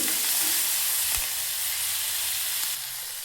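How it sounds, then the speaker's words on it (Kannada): Onions fry in a pan while being stirred, a loud, continuous sizzle with a brief utensil scrape partway through, fading slightly at the end, no talking. "ಈರುಳ್ಳಿ ಸಾಫ್ಟಾಗಿ ಬೆಂದ್ಕೊಳ್ಳಿ."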